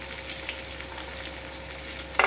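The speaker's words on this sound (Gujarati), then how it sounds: "રોસ્ટ કરી લઈશું પ્રોપરલી" Red chilies and cashews sizzling steadily in a hot pan as they roast, a constant close frying hiss with a brief stir clatter at the end.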